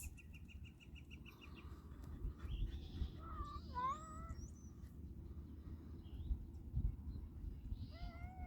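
A house cat meows several times in short, rising calls, fairly close, over a low indoor hum; no one talks.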